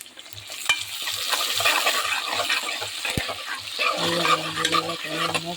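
Onion, green chili and curry leaves fry and sizzle in a pan, a steady broadband crackle with a spoon stirring in a regular rhythm of soft scrapes, and a brief sharper knock partway through.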